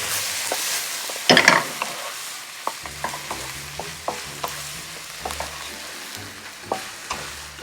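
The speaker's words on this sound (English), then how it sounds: "And then we should mix this all up." Eggs being mixed into pad Thai frying in a pan, a steady sizzle with irregular scraping and tapping strokes of a utensil, close and without talking.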